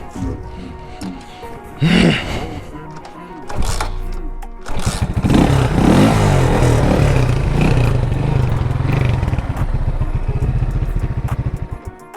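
A motorcycle used for wheelie practice sputters and struggles to start, then catches and runs loud and rough nearby with uneven revving and clattering toward the end.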